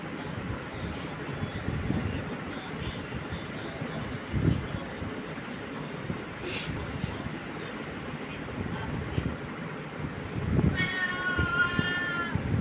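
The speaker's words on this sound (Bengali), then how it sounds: "বিড়ালটা খালি মিউ মিউ করে" An ill, hungry domestic cat gives one clear meow near the end, heard over a busy kitchen background with a person talking.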